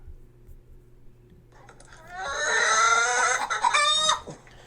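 A chicken clucks loudly and close in a quick run of harsh, rising calls after a quiet start, then cuts off abruptly.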